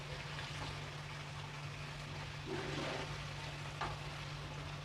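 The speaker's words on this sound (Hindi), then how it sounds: "गोश्त को इसमें अच्छी तरीके से हम फ्राई करेंगे" Chicken pieces for a chicken aloo curry frying in a pan, a quiet, even sizzle with a low steady hum beneath and a couple of brief stirring scrapes.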